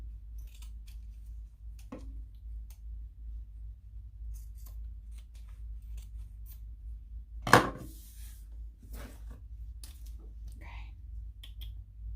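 Scissors trimming fabric pieces for a sewn ID lanyard, giving a few sparse, close snips and one louder cut against a quiet room hum.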